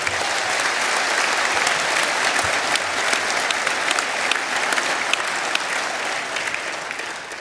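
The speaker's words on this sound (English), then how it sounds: "you deserve a round of applause" Sustained audience applause at a Brexit Party political rally in Peterborough, a dense, steady roar of clapping from a large crowd lasting throughout without a break.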